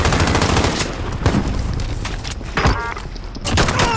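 Video game gunfire rattles in dense rapid automatic bursts mixed with heavier single shots and thumps, loud and close, continuing throughout with little pause.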